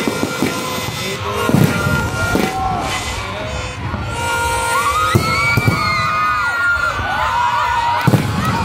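A seaside New Year fireworks display at Mall of Asia, with distant bangs and crackles popping over a steady crowd roar, cheering and children's shouts, while people talk nearby throughout.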